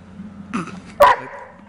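A man imitates a dog's bark with a ventriloquist-like technique, producing a short soft grunt followed by one sharp, close bark-like yelp, isolated and without other talk.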